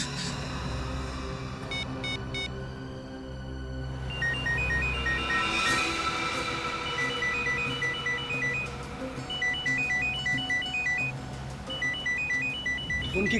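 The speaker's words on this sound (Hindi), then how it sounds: "उनकी घंटी सुनाई दे रही है ना?" A phone rings with repeated electronic tone bursts over a steady low hum and background music, the ringing continuing at a moderate level throughout without voices.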